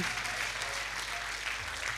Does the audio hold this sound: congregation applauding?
yes